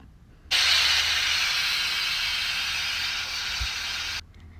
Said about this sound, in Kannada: ಕುಕ್ಕರ್ ಕ್ಲೋಸ್ ಮಾಡಿ 2 ವಿಷಿಲ್ ಬರ್ಸ್ಕೋಬೇಕು